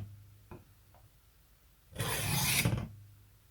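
Sharpening stone swiped along the blade of an Elk Ridge ER-555 knife, a single close rasping scrape lasting about a second, preceded by two faint taps in an otherwise quiet room.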